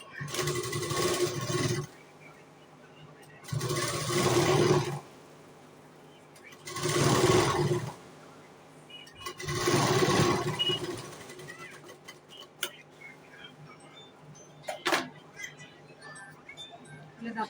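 Sewing machine stitching along the folded edge of a katori blouse, four short bursts of close motor whirring separated by quiet pauses, followed by faint handling clicks.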